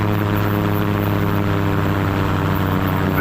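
Light aircraft engine powering up during a water landing, a loud, steady droning hum with a continuous propeller buzz and no speech.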